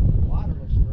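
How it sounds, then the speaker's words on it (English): Wind buffeting a microphone on an open coastal flat, a heavy low rumble that swells and fades, with a voice partly covered by it. "It's a windy day. Y'all probably can't hear a word I say"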